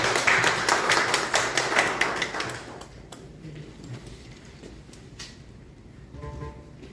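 Audience applause in a lecture hall, a dense burst of clapping that fades after about three seconds into scattered taps and quiet room noise.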